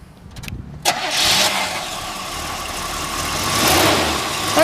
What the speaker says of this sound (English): We'll go ahead and fire it up for you.